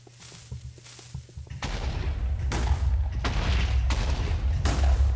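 TNT detonating on coal ore in Minecraft, a string of heavy booming blasts, some overlapping and some spaced about a second apart, growing louder and closer after a quieter crackling start.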